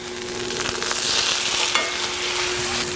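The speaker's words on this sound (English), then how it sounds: "I'm going to saute them lightly in butter." Vegetables sautéing lightly in butter in a pan, a steady close sizzle with occasional stirring clicks throughout, no voices.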